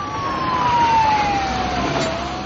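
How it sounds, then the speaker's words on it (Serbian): A warning siren wails through a town in Leposavić, Kosovo, a loud, slowly falling tone sounding steadily over distant background hum, with no voices. "U Lešku i Leposaviću su se oglasile sirene"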